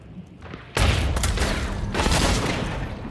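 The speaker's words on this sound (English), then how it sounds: "All shotguns, I think." Loud, dense shotgun blasts in a video game break in suddenly after a quieter start and roll on as heavy, booming fire.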